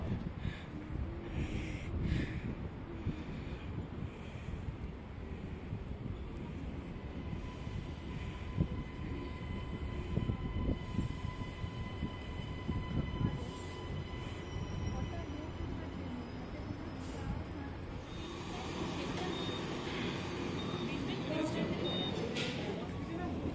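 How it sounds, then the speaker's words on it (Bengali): An airport line train pulling into a platform at Brisbane, a steady loud rumble of wheels and rail noise throughout with faint squeals, as people talk over it. "এই যে আমরা ঢুকেও পড়েছি প্ল্যাটফর্মে, আর সামনে একটা ট্রেনও ঢুকছে"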